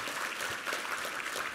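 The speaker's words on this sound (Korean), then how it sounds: "우리 하나님께 감사와 영광의 박수 올려드리겠습니다" A church congregation claps during a Sunday worship service, a soft, continuous wash of many hands heard from a distance and sustained evenly for the whole moment.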